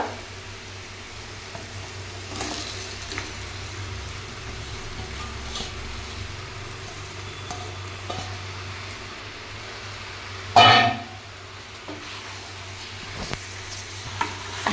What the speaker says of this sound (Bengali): মশলাটা আমার কষানো হয়ে গেছে এবার আমি মাংসটা দেবো